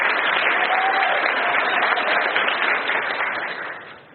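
Audience at a live event applauds loudly and steadily, dense continuous clapping that fades out near the end.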